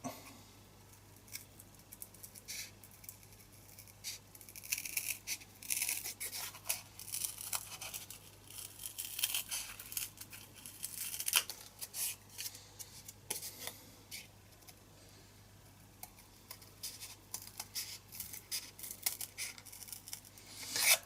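Scissors snip and trim through corrugated cardboard in quiet, irregular bursts of crisp cutting and rustling, close up, with a steady low hum underneath and no talk.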